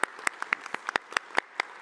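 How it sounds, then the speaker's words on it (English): A small audience at an economic forecast event claps for two panelists, sparse and fairly faint individual handclaps spaced irregularly, with no voices. "So I wanted to give a round of applause for you two"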